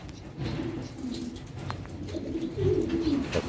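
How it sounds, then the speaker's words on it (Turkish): Homing pigeons coo in low, soft, rolling calls that repeat over a faint background hum, fairly close but quiet. "Bunlar posta güvercini yani."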